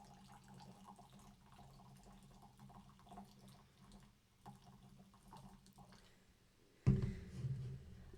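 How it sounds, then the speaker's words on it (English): 4Loko USA America flavor drink is poured into a glass from high up. Faint trickles and drips come first, then a sudden loud splashing pour near the end, close to the listener. "what I regret is pouring it that high"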